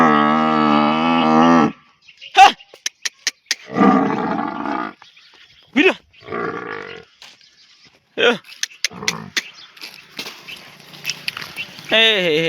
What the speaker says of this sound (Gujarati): હે હે જો આપણા વાડાનો ગેટ, બધી ભેંસો અંદર જાય છે।